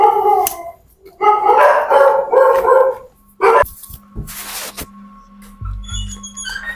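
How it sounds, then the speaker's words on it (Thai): Dog barking at night, several loud close barks and yelping howls in quick bursts, followed by quieter scattered noises and a low hum. "หมาเห่าอ่ะ ไม่เป็นไร"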